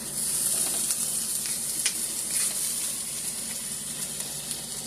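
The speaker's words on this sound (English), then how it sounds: "I just go ahead and let my meat cook up" Meat for cheesesteak fries sizzles steadily in a hot pan, a close, dense frying hiss that runs unbroken, with faint stirring clicks now and then.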